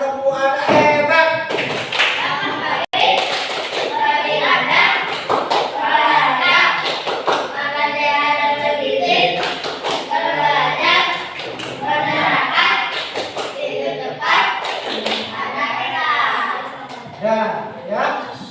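A group claps hands at a training session, with sharp claps and taps mixed among voices talking and chanting over them.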